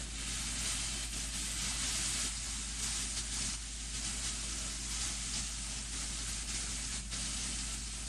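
Duck meat searing in a hot pan gives a loud, steady, dense sizzle with constant crackle and hiss throughout, close up and uninterrupted.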